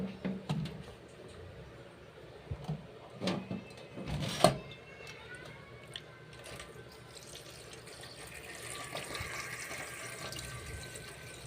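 Water from a tap runs and splashes into a cooking pot during preparation of a Bicolano fish dish, soft and fairly close, with scattered clinks and knocks at first and a steadier flow toward the end.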